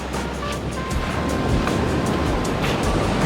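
Ocean surf at a rainy seaside spot in midwinter, a steady loud roar of waves breaking with wind rushing across the microphone and no one speaking.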